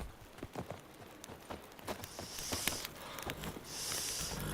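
Hoofbeats of Roach, the horse in The Witcher 3: Blood and Wine, a close rhythmic clip-clop of walking hooves with a light snort, over a rising ambient wash of the game's soundscape.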